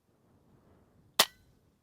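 A budget airgun fires a slug at a prairie dog target 205 yards away, a single sharp crack in an otherwise quiet outdoor setting, with a short tail fading behind it.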